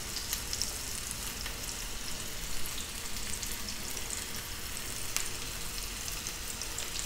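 Potatoes fry in olive oil for a bacalhoada, giving a steady, even sizzle with a faint crackle throughout and no voices.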